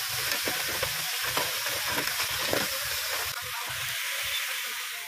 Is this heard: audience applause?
no